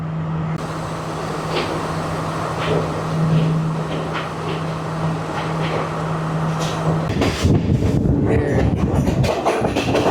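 Train departing Kandy, a steady rumbling roll of rail cars with a sustained hum and scattered clicks and knocks, loud and continuous from inside the carriage, growing rougher toward the end.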